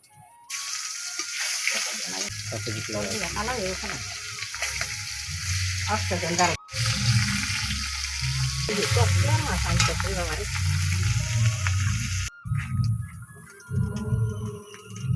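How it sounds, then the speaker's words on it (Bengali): Fish and masala spices fry in a pan for a Bengali fish curry, a loud steady sizzle with stirring scrapes running throughout, broken by two brief pauses, while someone talks over it. "এই যে মাছের ঝাল করব, ভাজবো, তারপর মশলাটা ভাজবো"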